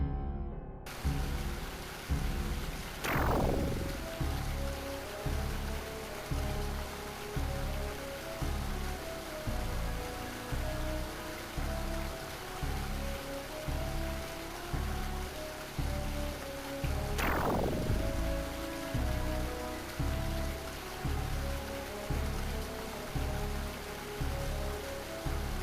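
Steady rain ambience from the video game Pier Solar and the Great Architects, a continuous patter looping with a rhythmic pulse, two brief sweeping tones cutting through; no talking.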